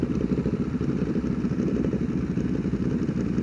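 Several motorcycles at a supermoto meetup idle and clatter together close by, a dense, steady low engine rumble with no talking over it.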